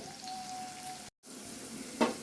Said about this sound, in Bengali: আর অল্প অল্প করে আমি এটা ভাজাটা করছি